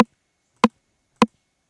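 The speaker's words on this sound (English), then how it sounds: "We have a rim shot that sounds like this." Three evenly spaced clicks of a rim shot sample from the Ableton Live 909 Core Kit, each short, dry and snappy against silence.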